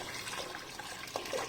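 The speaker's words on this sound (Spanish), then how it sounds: "Y aquí vamos a agregarle 1 litro de agua." A litre of water pours into a pot of tuna soup with broad beans, a soft continuous splashing and gurgle at low volume, no talk over it.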